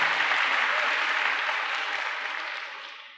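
A church congregation breaks into loud, sustained clapping that fills the hall as a dense wash of hand claps, slowly fading toward the end.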